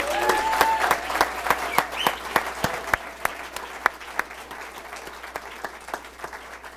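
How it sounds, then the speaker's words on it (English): A crowd at a tech-park and incubator funding announcement in Vancouver breaks into sustained applause with a crisp flurry of claps, peaking early and then thinning to scattered claps. "I want to pack you all of that into a big ovation for Discovery Parks"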